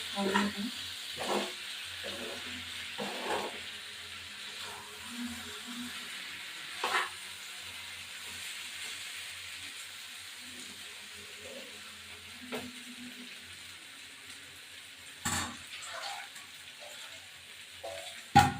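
Yogurt-marinated chicken for kosha chicken sautéing in a pan, giving a soft, steady sizzle and hiss at low level, with occasional stirring clatters and scrapes.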